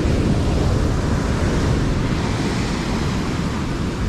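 Big ocean waves at Tawang beach in Pacitan make a constant, loud broadband roar of surf, with heavy wind buffeting the microphone and no voices.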